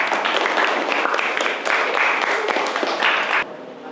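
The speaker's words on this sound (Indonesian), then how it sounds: "Tepuk tangan untuk kelompok 5." Classroom applause for a student group after their presentation, a steady patter of many hands clapping at even loudness for about three and a half seconds before cutting off abruptly.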